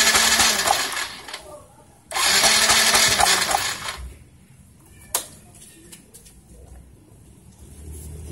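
An automatic motor scooter's electric starter cranks in two loud whirring bursts during a spark plug test on a scooter that dies suddenly, each followed by quieter workshop sound and a sharp click.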